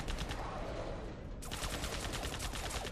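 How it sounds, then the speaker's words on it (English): Rapid automatic gunfire in the video game Alien Breed, a fast steady stream of shots that gets sharper and brighter partway through, loud and continuous. "So I'm the only one shooting."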